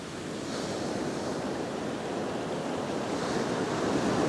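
Ocean surf breaking steadily on a beach, a continuous close wash of waves with wind rumbling over the microphone and no voices.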